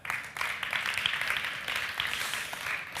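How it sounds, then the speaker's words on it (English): Audience at an AI summit applauding a professor: a steady, moderately distant patter of many hands clapping continuously for about three seconds, fairly soft and without talk over it. "Please an applause for Professor Grange."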